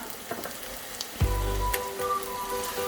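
Sliced onions sizzle steadily in a hot pan with ginger and green chilli for a Kerala-style kovakka meen peera, a soft crackling hiss with a brief clank of utensil against the pan.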